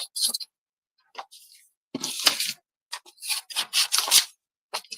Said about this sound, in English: we're going to cut these circles out very, very quickly with my right-handed scissors